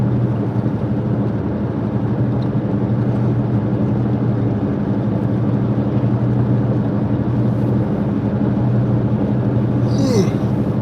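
Steady low rumble and broadband hiss inside a semi-old car's cabin rolling down the road, continuous and even throughout with no voices.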